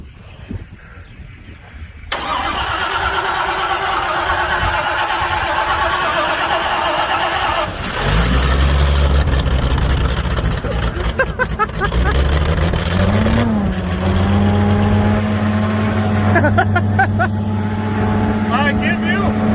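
A swather's slant six gasoline engine cranks after a quiet start, then catches and settles into a steady, loud idle with a low, rumbling hum; brief speech appears among the engine noise.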